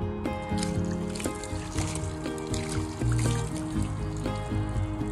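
Water trickles and splashes steadily over a mosaic fountain as it is rinsed, a continuous close liquid pour with some tonal hum underneath.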